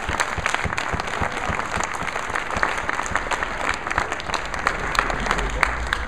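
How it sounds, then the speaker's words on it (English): Steady applause from an audience at a New Mexico tourism marketing awards recap, dense clapping sustained throughout with a faint crowd murmur beneath, moderately distant and even in level. "One more round of applause."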